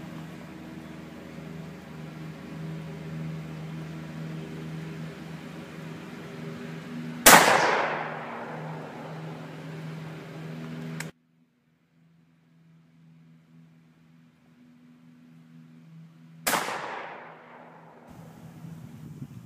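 A Mosin Nagant 91/30 rifle fires two loud, sharp gunshots about nine seconds apart outdoors, each with a decaying echo over a low background hum.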